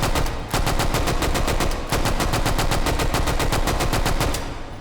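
Slow, steady automatic fire from an M3 grease gun in the VR shooting game H3VR, a long burst of evenly spaced loud reports with one brief pause, no voices.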